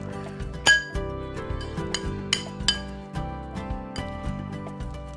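A utensil mixes mayonnaise and lemon in a bowl for snow crab gunkan sushi, clinking and tapping against the dish in irregular bursts, with a soft melodic background running throughout.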